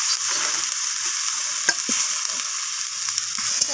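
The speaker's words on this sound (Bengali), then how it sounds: "তো আলুগুলোকে এইভাবে নাড়াচাড়া করে আমি কষিয়ে নিচ্ছি মশলার সাথে।" Fried potatoes are stirred with spices in a pan, a spatula scraping and clacking in short strokes over a steady, bright sizzle, close and fairly loud, with no talking.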